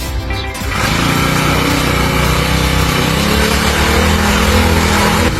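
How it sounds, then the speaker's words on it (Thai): A concrete power trowel's small engine catches within the first second and settles into a loud, steady, close-up droning run that continues unbroken. "พี่ช่างก็กำลังจะประกอบเครื่องปาดปูนเพื่อสาธิตการใช้งานนะ คะอย่างแรกไปดูวิธีการสตาร์ทเลยค่ะ"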